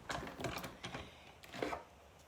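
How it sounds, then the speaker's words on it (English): A Stampin' Cut and Emboss machine cranking a watermelon card piece through its rollers, a close, continuous grinding mechanical whir with slight rhythmic pulses over about two seconds. "let's run this through our Stampin' Cut and Emboss machine"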